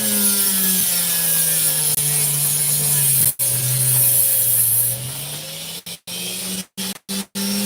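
A saw grinds steadily through a piece of opal in a vertical cut, a loud continuous droning whine that holds for several seconds, then stops and restarts in short bursts toward the end.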